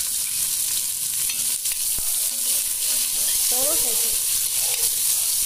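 Onion frying in oil in a pan, producing a steady, close, bright sizzle that runs throughout, with occasional stirring knocks and a brief spoken word.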